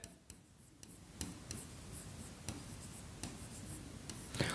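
Chalk or marker writes on a board during a maths lesson, giving faint scratchy strokes with sharp taps at irregular intervals over a quiet room.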